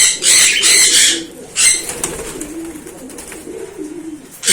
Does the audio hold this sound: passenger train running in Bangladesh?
no